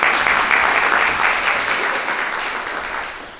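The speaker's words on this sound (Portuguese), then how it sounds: "uma salva de palmas para a Michele." A room full of people at a school management seminar clapping steadily, loud and sustained, slowly tapering off toward the end.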